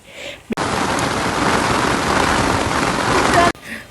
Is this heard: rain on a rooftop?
yes